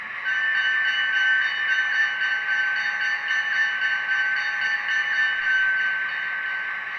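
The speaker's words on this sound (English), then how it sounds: "Next, we've got the bell on function 1." A steady, ringing locomotive bell sound effect from an N scale GMD FP9A model locomotive repeats continuously for several seconds at an even level, with a faint hiss beneath and no talking.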